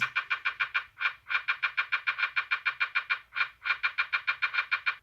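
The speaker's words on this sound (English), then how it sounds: "I used a shaker and a reverse shaker" Rapid, evenly spaced shaker and reverse shaker strokes in bright rhythmic bursts, with brief pauses between phrases and a soft low hum underneath.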